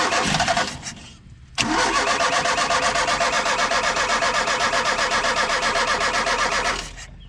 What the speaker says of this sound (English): I'm gonna go now and try starting up the engine